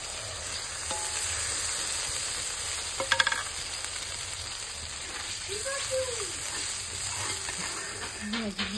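Spice paste frying in oil in a pan, a steady close sizzle with some stirring scrapes throughout, and a brief clatter in the middle.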